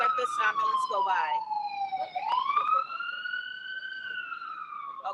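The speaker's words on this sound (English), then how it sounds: "Now just let this ambulance go by." Ambulance siren passing near a beach bar on Junkanoo Beach, a loud wailing tone that sweeps up and down over about five seconds, with brief chatter under its start.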